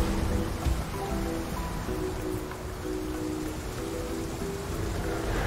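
Rain in the video game Path of Titans falls as a steady, dense patter under faint tonal ambient music, continuous and fairly soft with no voices.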